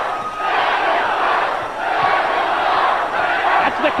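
A wrestling arena crowd at the TNA Asylum roars and chants together during a live NWA TNA show, a loud, dense, continuous wall of voices that swells and holds throughout.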